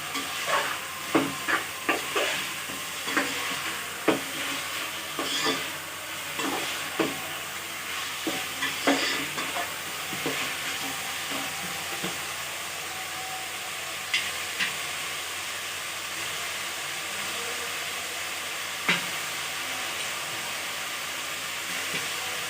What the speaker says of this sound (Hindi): साथ ही में हम डालेंगे ये हरी मिर्ची, ये गरम मसाला, और इसे अच्छी तरीके से भून लेंगे।